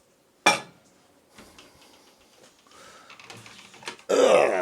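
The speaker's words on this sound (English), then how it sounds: "get a bit of hot water in the frying pan" A frying pan that has cooked egg and bacon clanks sharply as it is handled for washing up, followed by quieter rattles and a burst of hot water running at the end.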